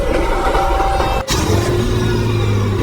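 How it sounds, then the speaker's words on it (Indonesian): A car's engine turns over and comes back to life in a Thai horror film scene: a brief cutout, then a steady running engine hum, close and loud. "mobil mereka pun kembali menyala"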